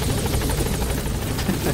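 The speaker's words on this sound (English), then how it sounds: "Get the chopper!" Video-game helicopter with a steady whirring rotor and engine drone filling the short span at constant loudness, mixed with busy game noise and possible faint voices.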